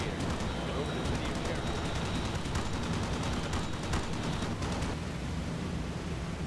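Machine gun fire from aircraft in a B-17 bomber video game, dense rattling bursts under steady engine roar, with a voice talking over it.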